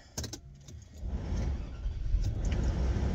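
A few clicks and a short cranking sound, then a car engine catches and settles into a steady low idle rumble nearby.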